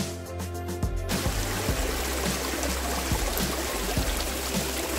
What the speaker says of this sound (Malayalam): ഈ ലാൻഡിൽ കൂടെ തന്നെ ഒരു അരുവിയും പാസ് ചെയ്യുന്നുണ്ട്.